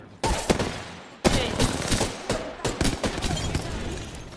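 Wingman pistol fire from the Apex Legends video game: rapid, loud repeated gunshots in quick bursts, near and sharp, with brief pauses between volleys and faint speech underneath.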